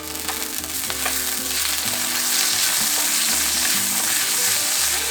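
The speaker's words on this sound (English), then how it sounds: "Over medium heat, saute briefly the garlic in an oiled pan or wok." Garlic sautés over medium heat in an oiled wok, giving a loud, steady, close sizzle with occasional scraping and stirring movements throughout. No voices are present.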